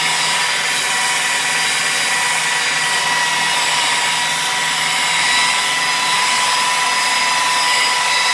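Rotary polisher running at about 1000 RPM on a car's painted panel, a loud, steady whirring hum that holds an even pitch from start to finish.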